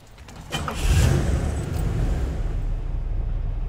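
A classic Oldsmobile Toronado or Buick Riviera with a 425 engine cranks briefly, catches, and settles into a steady, rumbling idle nearby. No voices are heard.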